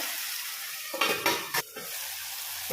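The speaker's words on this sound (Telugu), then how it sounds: "ఇప్పుడు మూత పెట్టి ఈ టమాటా పేస్ట్ అంతా కూడా మంచిగా ఉడికించుకోవాలి" Onion and tomato paste cooking in a pan in a home kitchen, a soft background sizzle broken by a few brief, sharp bursts of stirring and spattering near the middle, close by and alone.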